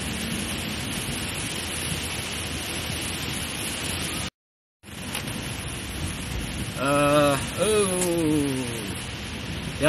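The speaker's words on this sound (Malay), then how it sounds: "Jalan licin, hari hujan deras." Heavy rain pouring steadily on a slippery road near a landslide site, a loud continuous wash broken by a brief cut, with a short whistling or horn-like tonal sound near the end.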